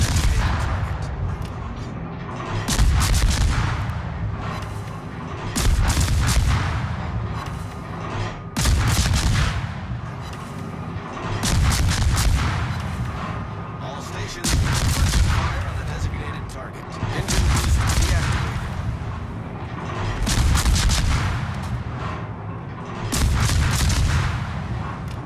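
Naval artillery fires in the video game World of Warships, with heavy booming salvos repeating roughly every three seconds, each a deep blast with a rumbling tail, loud and continuous, with a voice talking over it.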